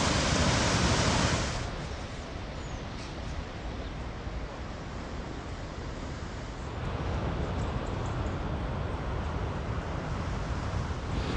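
Waves wash onto a working beach near the Tyne, a broad continuous roar of surf with wind rushing against the microphone, loudest at the start and steady after, with no voices.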